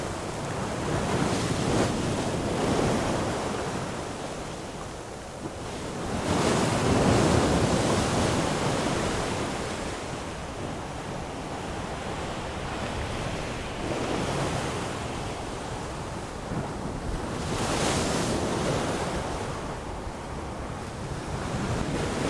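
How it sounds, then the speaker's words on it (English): Big waves break on a wintry coast with snow showers, heard up close with constant heavy wind buffeting the microphone and the surge swelling into loud crashes every several seconds; no voices. "you get the spray just standing in the same place of the breaking waves"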